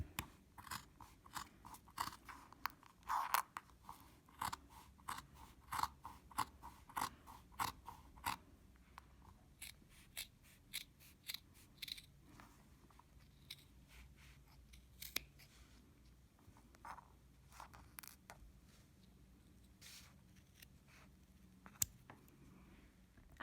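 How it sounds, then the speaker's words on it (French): Scissors cut through fabric for a simple cape in a quiet sewing room, with crisp, repeated close snips that come rapidly at first and then grow sparser and more spaced out. "Maintenant, vous allez couper, donc ici,"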